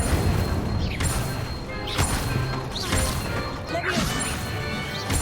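Incendio fire spell cast in Hogwarts Legacy: loud repeated whooshing bursts and crashing impacts, several in a row, over a dense continuous wash of game effects.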